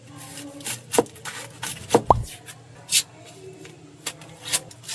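Knife chopping onion finely on a board, a handful of sharp irregular taps and cuts scattered over several seconds with low kitchen background.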